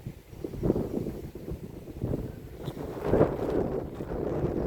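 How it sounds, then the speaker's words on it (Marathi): Cool wind blowing across a rice paddy after rain, a steady low rushing buffet against the microphone that rises and falls in gusts, loud and close, with no one speaking. "गार हवा सुटली."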